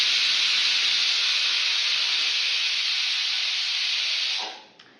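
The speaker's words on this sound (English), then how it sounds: "I'm boiling some potatoes." A pot of boiling potatoes gives off a loud, steady steam hiss that runs unbroken for several seconds, then fades out abruptly near the end.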